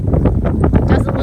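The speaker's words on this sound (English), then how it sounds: "It's just really blizzardy out, really windy and cold" Strong wind gusts roar steadily outdoors in a cold, snowy blizzard, a loud, continuous buffeting rush close to the microphone with no clear pauses.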